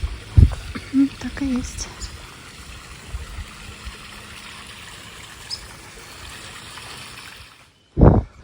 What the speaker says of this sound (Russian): А еще звук воды. Кажется, приближаюсь к небольшому водопаду.